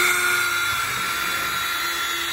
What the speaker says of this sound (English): Always let the drill do the drilling.